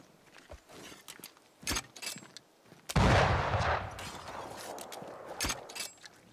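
Rifle shots in the video game Banishers: Ghosts of New Eden, a loud sharp blast near the middle with a long rumbling decay, surrounded by scattered faint clicks, footsteps and smaller pops.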